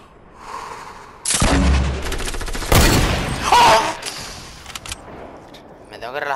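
Gunfire in a shooter video game: bursts of loud, rapid shots and booming impacts come in waves, close and dense, with a voice talking over part of it.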